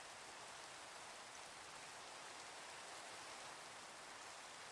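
Steady rain falls in a video game, a dense, even hiss of downpour with no breaks, fairly quiet and alone, with no voices.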